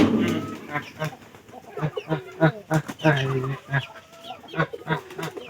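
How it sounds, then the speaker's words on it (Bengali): Chickens cluck in a busy, irregular series close by, with a voice talking over them throughout. "মুরগিও কিন্তু শিবনের পছন্দের"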